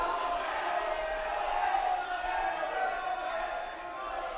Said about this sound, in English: You can hear the crowd wanting the stall call.